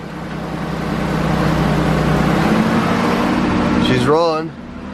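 A 1982 BMW 633csi E24 driving after an overhaul, its engine humming steadily at cruise with road and cabin noise, a voice speaking briefly near the end as the sound drops away.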